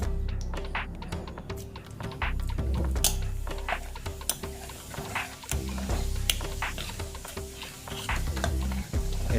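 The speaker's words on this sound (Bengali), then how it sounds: "আমরা এখন এতে জিরে ফোড়ন দিচ্ছি।" Cumin seeds crackle and spit in hot oil as a tempering for home-style haleem, a steady close sizzle broken by sharp pops and clicks throughout, with no talking.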